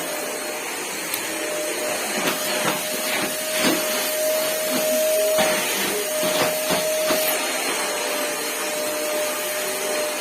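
A vacuum cleaner runs steadily in a village house, a continuous motor whine with a thin tonal hum, broken by bumps and knocks as it is moved around.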